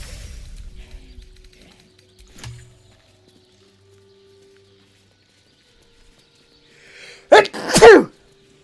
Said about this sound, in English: I normally would mute myself before sneezing